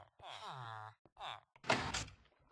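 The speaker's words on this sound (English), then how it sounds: "Flushing also closes the door." A Minecraft toilet flushes and shuts a door in a short whooshing burst near the end, after a stretch of groaning voice-like tones and a few thumps.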